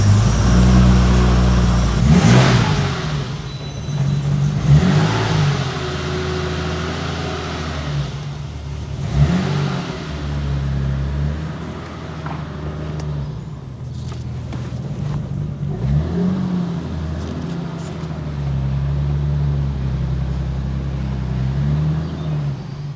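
A long-parked BMW E21 car engine runs steadily after a jump start, close and loud, with a low, uneven idle, a few rev swells near the start and again partway through, and no talking.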